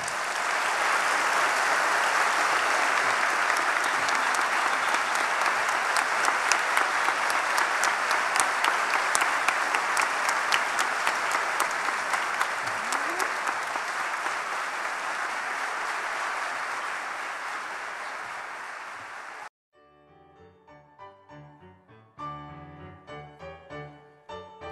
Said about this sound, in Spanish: Para todos ellos, los que hicieron posible esto, un gran, pero un gran aplauso.